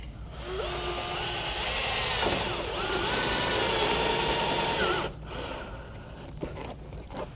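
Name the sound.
screw driven into metal roof panel with drill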